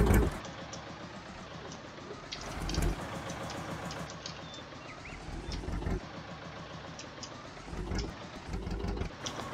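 A tractor engine idling in the video game Farming Simulator 19 gives a steady mid-pitched rumble with slight swells in level, running continuously and quietly with no talk over it.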